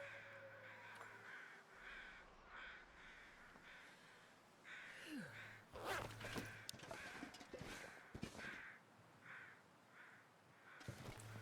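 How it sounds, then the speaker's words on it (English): Crows in the video game The Long Dark caw repeatedly at a distance, harsh calls scattered across the scene over a low ambient hum with occasional clicks. "I think that's the crows I can hear"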